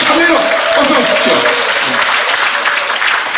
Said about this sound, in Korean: 여러분 큰 박수와 환호로 모시겠습니다